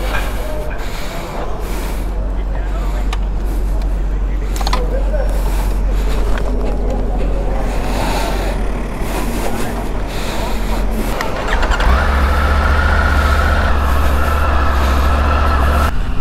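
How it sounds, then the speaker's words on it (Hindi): Triumph Tiger 900 Rally motorcycle cruising on a highway, a steady loud low engine drone with heavy wind rush that rises in pitch near the end, continuous throughout. "this is the tiger 900 rally and taking a test ride of it on the highway"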